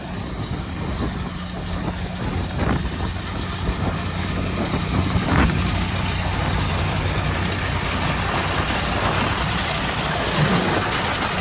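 Heavy truck rumbling past on a quiet residential street in a Canadian neighbourhood, a steady loud low engine drone with a few sharp knocks, sustained throughout without voices.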